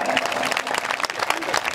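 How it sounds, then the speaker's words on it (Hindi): Audience applause at a Hindi comedy poetry show, a dense steady burst of clapping from a live crowd that fills the short clip without a pause. "बढ़िया तालियां बजाओ एक बार जरा।"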